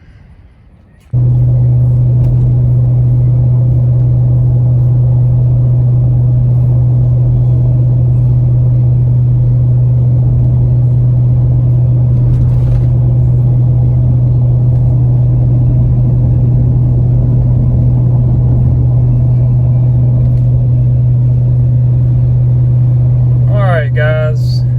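A 2020 Ford F250/F350 with the 7.3 gas engine and 4.30 gears merges onto the interstate, its engine a loud, steady low drone heard from inside the cab that lasts the whole stretch after a brief quieter start.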